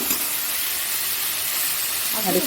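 Chicken pieces fry in a pan after a little sugar is added, giving a steady, soft, broad sizzle with no break, plus a brief stirring scrape near the end.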